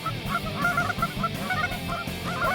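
A flock of geese honking in a rapid, overlapping chatter of calls, moderately distant and steady throughout.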